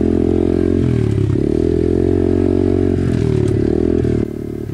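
An Apollo RFZ 125cc pit bike engine drones loudly and steadily on a single-track enduro trail, its pitch wavering slightly with the throttle, then dropping a little near the end.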